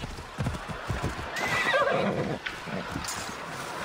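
A horse neighs and whinnies in Assassin's Creed Odyssey, with steady hoofbeats clopping underneath, close and clear; the whinny rises in the middle and then fades back to the hooves.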